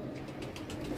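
A pigeon coos softly and low, with faint fluttering bursts and a steady hum in the background.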